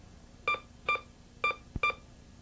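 Four short, clear electronic beeps from a Bounty Hunter Pioneer 202 metal detector signalling a dime, evenly spaced and fairly faint, with a brief click between the last two.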